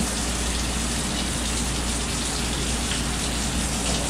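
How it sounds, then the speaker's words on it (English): Running water gushes steadily over a live blue crab being rinsed of salt water and mud, a close, constant hiss of spray with no talking. "I'm gonna get him rinsed off, just get some of that salt water and mud off of him."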